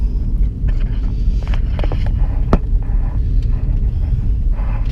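A 2013 Smart Fortwo car driving, its low engine hum and road rumble steady throughout with a few faint knocks and clicks from inside the cabin, no talking.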